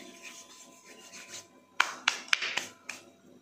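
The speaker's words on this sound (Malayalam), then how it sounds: "അപ്പോൾ അത് നമ്മൾ കയ്യിൽ വെച്ച് നന്നായിട്ടൊന്ന് ഇങ്ങനെ ഞരടിയിട്ട് ഇട്ട് കൊടുക്കാം" Hands rub and crush dried leaves into a fine powder while preparing chicken tikka. Soft rasping and a few crisp crackles come in near the end over a quiet background.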